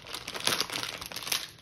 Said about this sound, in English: Even more fancy wrapping.